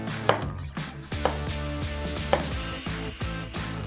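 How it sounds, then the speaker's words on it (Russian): Knife cutting a tomato into slices on a board, a series of crisp, close chopping knocks at an uneven rhythm, heard alone without talk. "Ну и обычный помидор нарезаем на ломтики."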